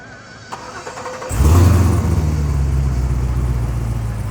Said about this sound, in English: 63 vet that's going to get started from his phone